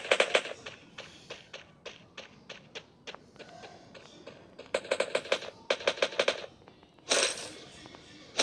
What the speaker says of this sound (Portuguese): Tem um cara atirando aqui.